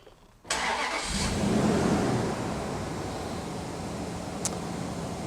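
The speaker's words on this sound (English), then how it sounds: "So I'm going to start the engine." A Chrysler car engine cranks and catches, then settles into a steady, fairly loud idle rumble close by, with no talking.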